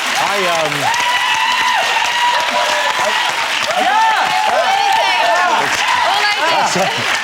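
A studio audience at a British TV chat show applauds and cheers loudly and continuously, with excited voices and shouts mixed into the steady crowd noise throughout.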